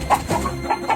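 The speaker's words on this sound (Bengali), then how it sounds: "তাকে দেখে মুরগিগুলো খুব জোরে জোরে ডাকাডাকি করতে শুরু করে" Cartoon hens in a henhouse clucking loudly in short, agitated bursts, close and overlapping across a brief moment.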